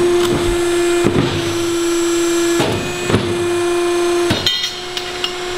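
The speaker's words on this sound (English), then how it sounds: "This machine works like the same way a handlebar is made." Factory machine bending a BMX stem, the same process used to make handlebars, on a manufacturing floor in Brazil: a steady mechanical hum runs throughout, punctuated by four or five sharp metallic clanks and impacts.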